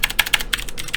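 Someone types quickly on a computer keyboard close by, with about seven crisp keystrokes in a second in a light, uneven patter and no voices.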